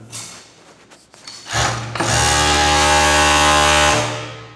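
A 5-thread overlock sewing machine winds up and runs at full speed with a steady loud whirring hum for a couple of seconds, then spins down, after a few quieter handling sounds.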